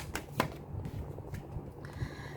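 Fortune-telling cards are shuffled in quick, soft riffles and slides, close and quiet, with no talk over them.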